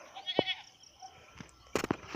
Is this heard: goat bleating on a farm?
yes